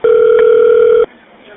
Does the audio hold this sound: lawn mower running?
no